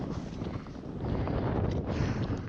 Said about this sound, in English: I wonder if you can even hear me with all the wind.